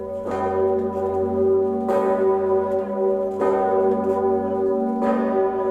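A giant 9-ton cathedral bell in Kraków tolls four times at steady intervals of roughly one and a half seconds, each deep strike ringing on with a long humming decay, loud and clear.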